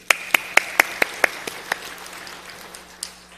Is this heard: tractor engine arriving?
no